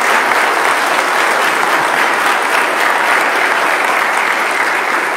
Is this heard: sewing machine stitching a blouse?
no